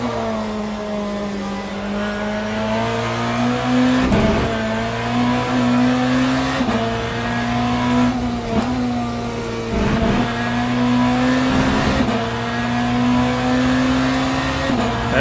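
BMW race car engine in the Le Mans Ultimate racing game, a loud, continuous droning roar holding a steady pitch, with brief shifts and dips from gear changes at regular intervals.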